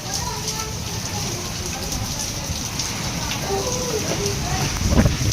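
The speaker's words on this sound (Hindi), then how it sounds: "देखो बारिश की आवाज़ सुनाओ।" Steady, heavy rain pours in a dense continuous hiss, with wind-like rushing underneath and a brief low rumble near the end.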